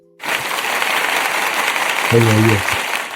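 Dense crowd clapping from an Alabama football fan gathering, a steady wash of applause, with a brief low tonal burst near the end.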